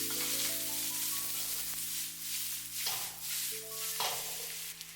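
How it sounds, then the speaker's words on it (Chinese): King oyster mushrooms stir-fried fast in a wok with scallion and garlic make a soft continuous sizzle, with a low steady hum underneath and brief scraping stir strokes near the end. "把控乾水分的杏鮑菇直接倒在鍋中，快速翻炒，把杏鮑菇的水汽炒乾"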